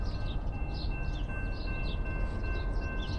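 CSX northbound freight train on the Toledo Subdivision rolls past with a steady, loud, broadband rumble and wheel-on-rail clatter, with faint high squeal tones running throughout.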